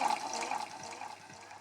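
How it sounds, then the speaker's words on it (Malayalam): A glass of water poured into a pan of green chillies, ginger, carrot and curry leaves for semiya upma, a brief soft splashing gush that fades quickly. "വെള്ളം ഒഴിച്ചു കൊടുക്കുന്നത്"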